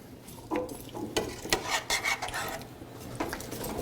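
A spoon scrapes and clinks around a pot of curry with carrots, several quick stirring strokes close by, with small metallic knocks and a faint sizzle underneath.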